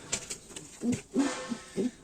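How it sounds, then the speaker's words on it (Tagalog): Several soft, low coos from pigeons, spaced in short bursts over a quiet background. "Mga kalapatids."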